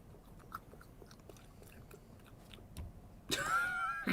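Someone eats, with soft, close chewing and crunching bites spaced irregularly at low volume, followed by a louder burst of other noise at the end.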